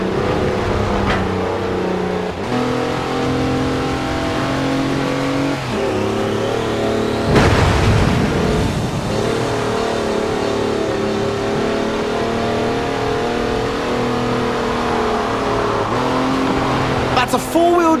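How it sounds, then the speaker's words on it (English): Engine of a four-wheel drive car on knobbly mud tyres revving hard while sliding sideways in Forza Horizon 4, a steady loud drone with shifting pitch and a sharp surge midway, with talk over it. "That's a four-wheel drive car on mud tyres completely sideways"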